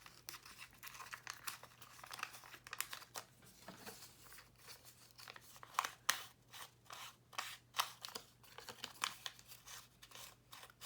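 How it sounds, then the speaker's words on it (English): Paper is torn by hand at a crafting table, a series of short, crisp ripping bursts in quick succession, fairly close and quiet, with no talking. "It's fine to tear it."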